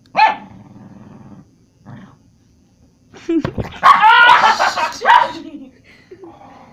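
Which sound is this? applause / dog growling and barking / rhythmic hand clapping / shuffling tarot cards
dog growling and barking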